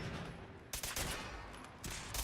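Gunfire in Fallout 4, a quiet burst of rapid shots followed by a short pause and then another brief volley, fairly faint and clipped, with no voices.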